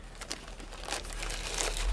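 Tissue paper crinkling softly as cheer bows are wrapped for shipping, a close, quiet rustle that swells slightly toward the end, with no talking.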